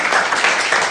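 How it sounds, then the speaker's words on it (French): A church congregation applauding to welcome a guest during a service, a dense burst of many hands clapping together, loud and close for about a second. "On peut l'accueillir avec l'applaudissement."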